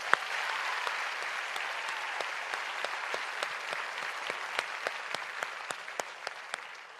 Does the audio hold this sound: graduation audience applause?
yes